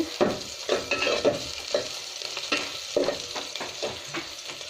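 Onion and green chilli fry in white oil while a spatula stirs, giving rhythmic scraping strokes over a steady nearby sizzle, with no talking.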